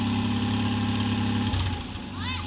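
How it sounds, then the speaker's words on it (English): A straight-piped lawn mower engine idles loudly and close with a rough, steady low rumble that shifts and loosens midway, while a voice speaks over it near the end. "the other lawnmower fired up"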